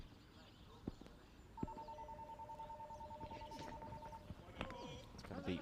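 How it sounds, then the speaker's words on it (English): A telephone rings at a European Cricket League T10 finals day match, a steady electronic two-tone trill lasting a few seconds, faint in the background beneath crowd and ground noise and occasional sharp knocks. "I can hear a phone ringing in the background as well."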